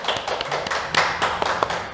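A small group claps hands during an alumni talk, a few uneven, sharp claps scattered over a couple of seconds rather than full applause, close and fairly loud.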